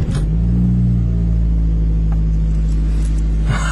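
A 1994 Ford Probe 2.0 engine cranks and catches on a cold start after months of sitting, settling into a steady, loud, close idle rumble for several seconds before a brief change near the end.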